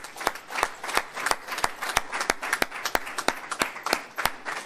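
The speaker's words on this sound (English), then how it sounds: "Give yourselves a warm round of applause" A small audience claps at a rally-style religious address, sparse and fairly distinct hand claps in an uneven rhythm, close by and moderately loud, with no talk over them.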